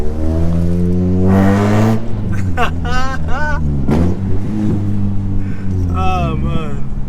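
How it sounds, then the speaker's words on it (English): Straight-piped Honda Civic EP3 Type R with an M2 Hornet exhaust revving loudly, a steady harmonic drone that climbs and falls through several throttle blips, close and continuous with some talk mixed in. "this car sounds amazing"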